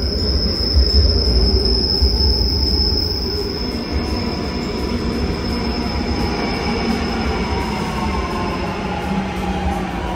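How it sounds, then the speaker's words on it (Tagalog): A train pulls into a station near Milan, rumbling steadily with a sustained high wheel squeal over the track noise, fairly loud and close. "padating na po yung tren na sasakyan namin"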